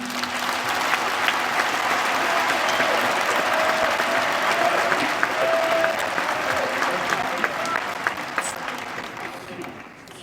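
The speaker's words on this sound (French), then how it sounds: "Je vous demande de les applaudir chaudement." A party congress audience applauds warmly and steadily for about ten seconds, a dense, sustained wash of many hands clapping that tapers slightly at the end, with faint voices mixed in.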